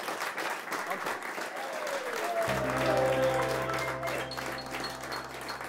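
Audience applause at a Dutch carnival (vastelaovend) show, broadband clapping throughout the clip while a low musical tone and sustained notes start partway through, under the crowd noise.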